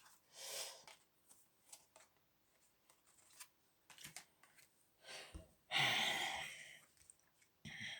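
Tarot cards are shuffled, giving bursts of close papery riffling and snapping separated by quiet pauses and soft breaths, with one longer, louder shuffle near the end.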